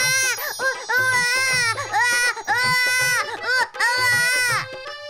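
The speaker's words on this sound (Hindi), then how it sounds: "बच्चे के रोने की आवाज सुनाई" A baby cries loudly in repeated wailing bursts with short gasping pauses between them, a close, shrill sound effect heard right after an egg cracks open.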